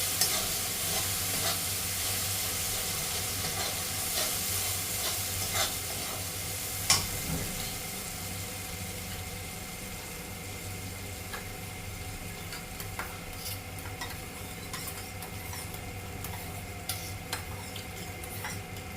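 Masala for chhana dalna sautés in a pan over a lowered gas flame, giving a continuous soft sizzle broken by scraping stirs and occasional sharp utensil clinks against the pan.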